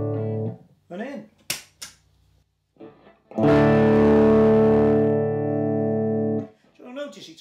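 A distorted electric guitar through a Fulltone GT-500 FET distortion boost pedal rings out a sustained chord for a few seconds, preceded by short picked notes and bits of quiet talk.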